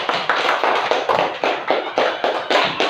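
Classroom audience at a university teaching practicum clapping in unison, a loud, close, rhythmic series of roughly evenly spaced group claps with no talking.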